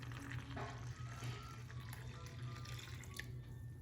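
Water poured from a container into a well in flour for grill-style pizza dough, a steady close liquid trickle over a low hum, no talking.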